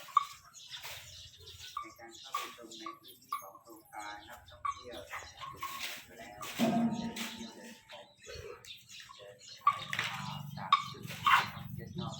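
A pet dog whimpers and yips while playing, in short scattered bursts mixed with someone talking and cooing over it indoors.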